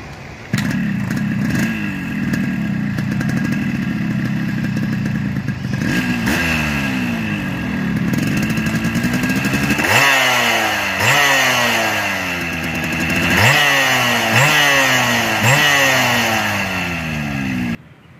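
A Yamaha RX115 two-stroke motorcycle engine revs up and down repeatedly, rising whines swooping over a loud, rattly idle, heard close and alone for a long stretch.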